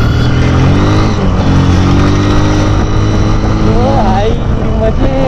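An LML Graptor motorcycle in first gear heads out onto a highway, its engine drone loud and steady under constant wind rush, with a rising rev near the end and a voice talking over it.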